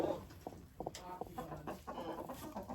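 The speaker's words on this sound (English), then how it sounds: "We still have one hen that has been broody." A broody hen in a clean barn gives a run of low, soft clucks and short murmured calls, close by and fairly quiet, with light background rustle.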